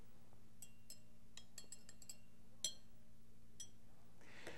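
A glass beaker of water being stirred after ten grams of dye is added, giving light scattered clinks of a stirring rod against the glass over a steady low hum, with one sharper tap partway through.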